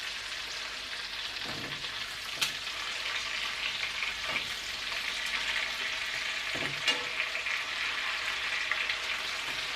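Chicken sizzles and fries steadily in a pan with shallots and bacon for coq au vin, a dense continuous crackle with a few louder spits and stirring scrapes, no voices.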